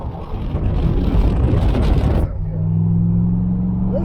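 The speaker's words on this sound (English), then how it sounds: "He's gonna hit the gas probably hard, pulling out my driveway just to irritate my neighbors." Chevrolet Silverado pickup with a Flowmaster Super 44 exhaust revving hard while pulling out of a driveway, a loud broadband roar that drops after about two seconds into a steady, deep droning rumble close to the microphone.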